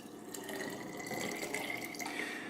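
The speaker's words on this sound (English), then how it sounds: "just go ahead and add your 12 ounces of water" Twelve ounces of water pours into a bottle in a steady, trickling stream with a faint rising tone as it fills, quiet and close, no voices.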